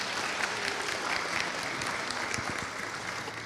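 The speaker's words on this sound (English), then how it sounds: "If we could give a round of applause," A seminar audience applauds at a live consumer bankruptcy event, sustained crowd clapping heard at a moderate distance, even and continuous throughout, with no voices standing out.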